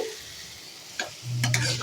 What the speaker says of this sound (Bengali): এইখানে দেখো ভাজা করছি, তেলের মধ্যে সর্ষে, কারি পাতা দিয়ে